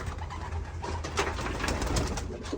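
Racer pigeons, including a red saddle pair, coo steadily at close range on a ranch, with a soft continuous rumble of calls and occasional higher chirps from other birds.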